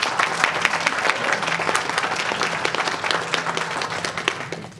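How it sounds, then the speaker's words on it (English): Sustained applause from a school board meeting audience during a swearing-in, dense steady clapping that fills the room for several seconds before tapering off at the end. "Give her another round of applause"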